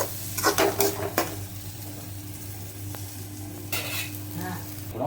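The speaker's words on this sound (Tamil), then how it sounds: "அரைச்சி வச்ச தக்காளியை அது கூட மிக்ஸ் பண்ணிக்கணும்" Ground tomato stirred into ginger-garlic paste and onion frying in a pan, a steady close sizzle with a few scraping spoon strokes, no talking.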